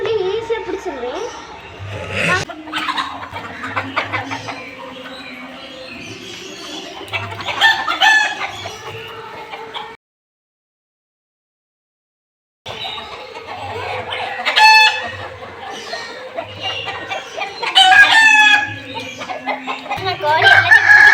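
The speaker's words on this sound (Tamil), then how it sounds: "கோழி இருக்கு, நிறைய இருக்கும்." Chickens cluck and roosters crow on a farm, several crows rising over constant clucking, with people talking throughout and a short silent gap midway.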